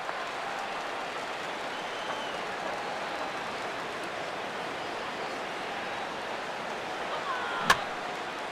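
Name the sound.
stadium crowd cheering in video game MLB The Show 16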